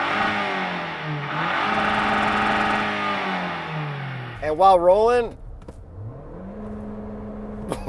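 A 2024 Toyota Grand Highlander engine revs up sharply in a few rising bursts, loud and close, heard from outside after a stretch of talking; a voice speaks briefly over the idle afterward.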